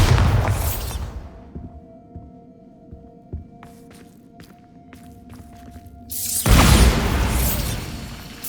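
A Bombarda blasting spell explodes in Hogwarts Legacy. A heavy blast fades at the start, a quiet stretch with faint thuds and hum follows, and then another loud, booming explosion bursts near the end and rumbles on.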